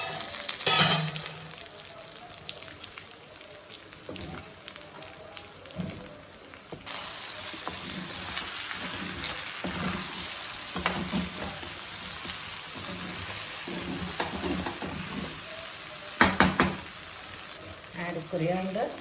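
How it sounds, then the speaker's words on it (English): Chicken fries under a lid in a pan over a low flame, a steady close sizzle that swells noticeably louder partway through, with scattered pops and light clatter and no talk. "So now put the lid and cook in low flame for 10 minutes."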